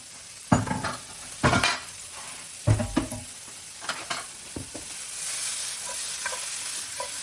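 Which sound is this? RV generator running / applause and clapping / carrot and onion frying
carrot and onion frying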